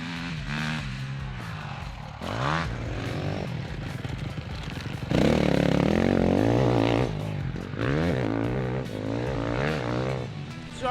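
A Ducati motocross bike ridden hard around a dirt track, its engine loud and close with revs rising and falling through gear changes and throttle bursts, steady roar throughout.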